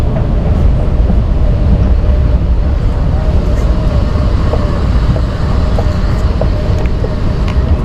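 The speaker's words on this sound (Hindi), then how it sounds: "और इनका मेट्रो स्टेशन देखें जी" Steady indoor hum of a metro station in Deira, Dubai, with a constant low rumble of trains and ventilation and scattered faint clicks and distant voices mixed in, even and unbroken throughout.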